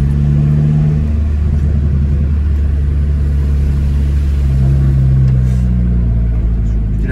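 An Audi A3 1.9 TDI diesel with suspect injector nozzles accelerates to overtake, giving a loud, steady low engine drone and road rumble heard from inside the car, with occupants talking over it.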